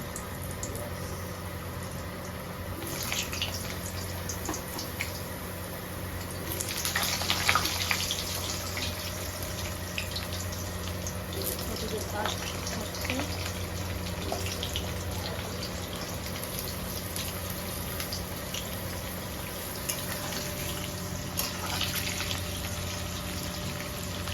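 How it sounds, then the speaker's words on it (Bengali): Potatoes are fried in hot oil, giving a steady, close sizzling hiss that swells briefly when the pieces go in, then continues evenly in the background. "আপনারা দেখতেই পাচ্ছেন আমাদের তেল গরম হয়ে গেছে। এবার ছাড়বো আলু।"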